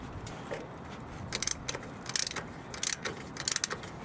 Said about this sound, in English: now we will remove the whole assembly using this oil filter wrench